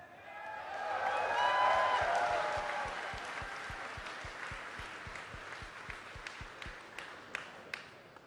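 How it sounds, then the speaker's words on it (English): Audience applause at BlizzCon, a StarCraft II tournament, for a third-place player: dense crowd clapping swells early, then thins into a steady rhythmic clap that continues under a faint hum. "Give him a round of applause, ladies and gentlemen."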